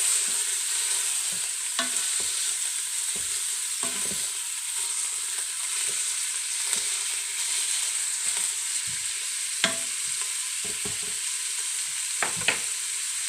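Meat fries in the lining of an Instant Pot, a close, steady sizzle with occasional scraping knocks from plastic or silicone utensils, and no voices.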